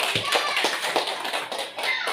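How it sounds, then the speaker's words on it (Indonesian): An audience claps during an Indonesian teacher's presentation, a quick run of brisk hand claps at moderate loudness, fairly close and steady, with some faint voice underneath. "Boleh tepuk tangan dulu?"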